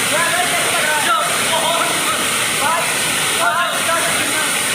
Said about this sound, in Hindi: क्या मस्त झरना है यार